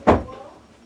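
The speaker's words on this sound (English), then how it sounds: "let me shut my door" A single door being shut nearby, one sharp thud that fades quickly into a quiet room.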